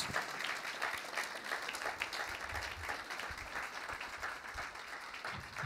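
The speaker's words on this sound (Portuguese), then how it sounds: "Aplauda bem forte a Jesus." Church congregation at a worship service clapping loudly and continuously, a dense roar of many hands with a few voices buried underneath.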